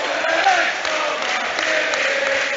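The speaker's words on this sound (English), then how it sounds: "the home crowd here in Anfield trying to urge their team on to try and get another goal" Home football crowd at Anfield roaring Liverpool on during a Premier League match against Brentford, a loud, steady wall of massed voices with no break across the whole stretch.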